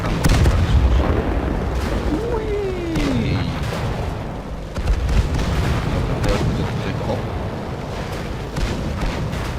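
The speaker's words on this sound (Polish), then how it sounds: "Jezu, ile tego wybuchło." Repeated booming explosions and cannon fire from tanks in the game World of Tanks, loud heavy blasts layered over a continuous rumbling battle bed, with a voice talking faintly underneath.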